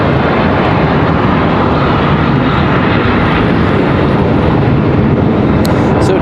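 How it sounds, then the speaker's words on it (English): A CRJ regional jet departing Charlotte Douglas airport, a loud, close, continuous engine roar filling the whole stretch at steady strength. "CRJ departure"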